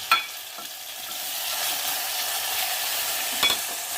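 Ginger-garlic paste sautéing in hot oil for a mutton curry, a steady hissing sizzle throughout with a couple of sharp utensil clinks at the start and near the end.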